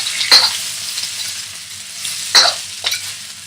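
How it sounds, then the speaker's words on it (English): Vegetables sizzling as they are stir fried in a wok, a loud steady hiss broken by a few sharp bursts as the food is tossed, with no voices. "You hear that sizzle? That means that you're actually sauteing instead of, for all intents and purposes, boiling."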